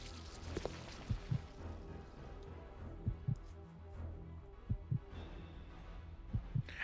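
A heartbeat effect from the game Resident Evil Code Veronica X thumps in steady paired beats over a low hum, moderately loud with no talking.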